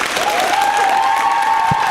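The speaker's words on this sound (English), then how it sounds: "One more round of applause for the 8th graders." A school musical audience applauds 8th graders after Mary Poppins, Jr., dense crowd clapping at full volume with a sustained cheer or whoop riding over it.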